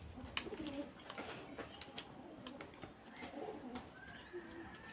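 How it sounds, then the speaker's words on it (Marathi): Pigeons cooing on a window ledge, soft low coos heard faintly and at a distance amid quiet background noise. "किती कबूतर आहेत त्या खिडकीवरती बघा तिथं."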